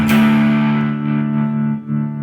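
Electric guitar with a Duncan treble bleed mod runs through a fuzz pedal: a loud, thick, sustained fuzzy chord rings out close up, then a second chord follows, with no voices.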